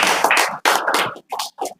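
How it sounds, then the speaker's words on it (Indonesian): Applause from a student class for a group of classmates, a dense burst of clapping that stops and then returns as two short, quieter spatters near the end. "mari kita tepuk tangan untuk kelompok kita"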